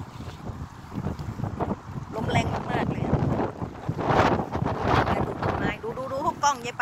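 Strong wind buffets the microphone beside the Ebenezer river, with waves splashing against the bank; the roaring gusts stay loud and continuous throughout, and people speak in Thai over the noise.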